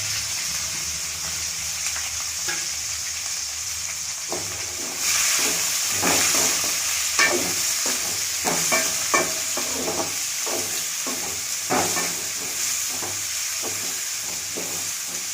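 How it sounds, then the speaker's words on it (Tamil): Onions frying in oil with popped mustard seeds for a Tamil ivy gourd gravy: a hissing sizzle that swells louder partway through, broken by repeated close scrapes and knocks of a stirring spoon against the pan. "கடுகு பொரிஞ்சு வச்சு வெங்காயம் போட்டுக்கலாம்."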